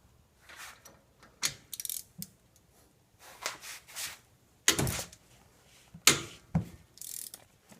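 A ratchet works loose the caliper bolts on the front brakes of a 2008-2013 Nissan Rogue, giving quiet, uneven clicking runs and metallic clanks up close.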